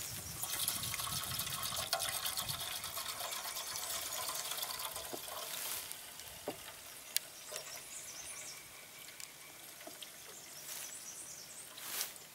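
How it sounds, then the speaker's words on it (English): Water poured into the water tank of a Woodland Mills HM126 sawmill, a steady gushing fill for several seconds that then gives way to scattered trickles, drips and light knocks. "Take the top off the deal, and add the water."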